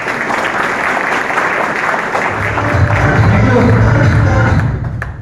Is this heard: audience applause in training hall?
yes